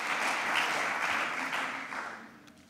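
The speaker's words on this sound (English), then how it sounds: "Mr. Weise, Mr. Knobloch, you've listened to the applause" Steady applause from a lecture audience at a university inauguration, a dense sustained wash of many hands clapping at moderate distance, slowly fading toward the end.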